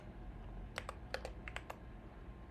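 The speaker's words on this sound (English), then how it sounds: "My keyboard is a Keychron Q4 with glorious panda switches and some simple mods." Keys clack in a brief burst on a Keychron Q4 keyboard fitted with Glorious Panda tactile switches and simple mods, about eight crisp close strokes in an uneven rhythm over a steady low hum.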